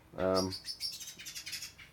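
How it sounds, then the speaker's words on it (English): Birds chirp indoors in a room just reopened after years in storage, a loud harmonic call up front followed by a rapid series of high tweets that keep going to the end. "Huh, the birds."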